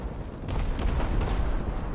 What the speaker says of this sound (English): Was that like a secondary explosion or something?